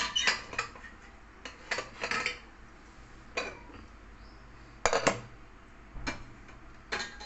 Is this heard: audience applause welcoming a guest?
no